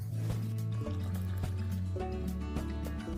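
Warm chamomile and lemon balm tea being strained and poured into a cup, a quiet trickling fill with rising liquid tones, heard close and soft.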